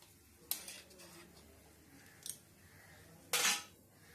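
Pieces of potato go into a pan for Katla fish curry with three sharp metallic clatters, the last one loudest, over a quiet kitchen background.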